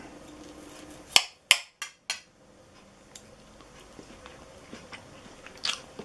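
A few sharp crunchy bites and clinks, close and loud, come in quick succession as someone bites into juicy brined boneless pork shoulder roasted on a charcoal grill, followed by quieter chewing and small rustles.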